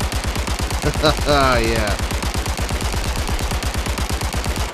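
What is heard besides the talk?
pistol shots at shooting range in Zero Caliber Reloaded VR game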